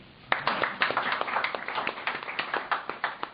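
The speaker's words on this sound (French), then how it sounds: "Bravo, on l'applaudit" An audience applauds at a comedy press-review show by Anthony Vossovic, a small crowd clapping in a clear, uneven rhythm of distinct claps for a few seconds.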